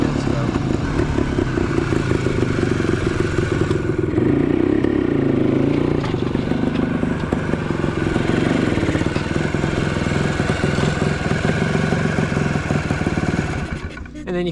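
A 1975 Yamaha DT250 two-stroke dual-sport motorcycle, already warm, fires on the first kick and runs steadily close by, a loud continuous engine drone with clatter that dips briefly near the end.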